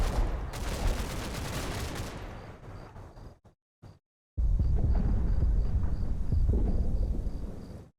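Mortar rounds firing and exploding in the wartime combat game Combat Mission: Battle for Normandy, loud rumbling booms rolling in bursts, a short silent gap, then another sustained barrage.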